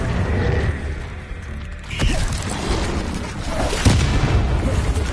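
A Confringo blast spell cast in Hogwarts Legacy bursts with a sharp fiery boom, followed by another impact a couple of seconds later, amid a dense, crackling game soundscape.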